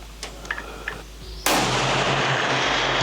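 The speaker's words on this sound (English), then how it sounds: "I'll go ahead and shoot a group." A Ruger American Gen II rifle fires one loud, sharp shot outdoors, with a sustained blast and rumbling echo afterward, preceded by a few faint clicks of handling.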